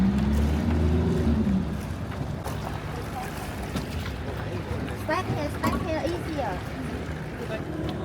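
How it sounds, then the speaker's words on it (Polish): A boat's engine drones steadily over the Mekong River in Can Tho, Vietnam, before dawn, heading to a floating market, with wind buffeting the microphone and faint voices in the background. "Tam już jakaś jedna łódź płynie w stronę targu"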